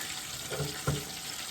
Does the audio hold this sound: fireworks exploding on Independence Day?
no